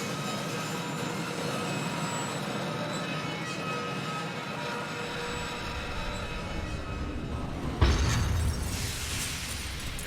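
A tram rolls through a laboratory in Resident Evil: Umbrella Chronicles, a steady mechanical rumble throughout with a louder clanking jolt near the end.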